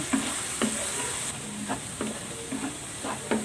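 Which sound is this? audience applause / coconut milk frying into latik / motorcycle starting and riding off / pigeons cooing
coconut milk frying into latik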